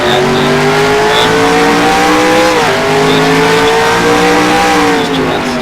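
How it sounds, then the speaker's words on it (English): Formula DASCAR race cars scream around a beach-side oval during a 2014 testing session, a loud continuous engine drone with a brief dip in pitch midway as gears shift. "now Formula DASCAR is going to run this track"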